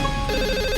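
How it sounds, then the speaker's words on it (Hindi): A desk telephone rings in an office, a steady electronic ring filling the short moment with no voices over it. "आपके डेस्क पे फोन बज रहा है"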